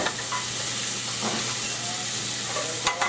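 Chicken livers fry in a hot pan for sage pasta, a steady close sizzle and crackle with occasional stirring scrapes and no voices.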